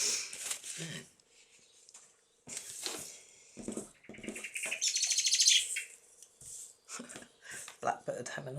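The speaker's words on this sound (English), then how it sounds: "Blackbird having a mad one outside." A blackbird sings outdoors in bright, varied phrases, a dense burst of warbling in the middle, while a person talks close by in several short stretches.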